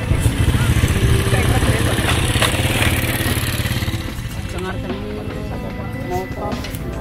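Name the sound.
motorcycle passing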